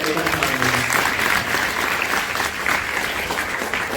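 Steady applause from a crowd at a school poetry recitation fills the whole stretch, dense and loud without a break.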